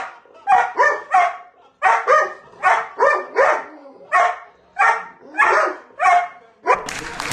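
Dogs bark at a television in a quick, regular series of loud, close barks, about a dozen in a row with short gaps between them.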